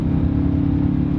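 Old Chevrolet Silverado truck accelerating on a country road, a steady low engine drone from the cab that holds even through a brief, smooth transmission shift, with no voices.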